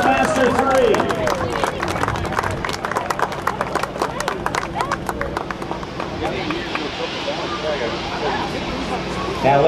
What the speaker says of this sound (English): How about a nice round of applause for the C-17 Globemaster III?